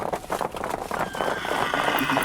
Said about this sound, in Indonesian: ibu lagi-lagi mendengar suara derap kaki kuda berlari dari kejauhan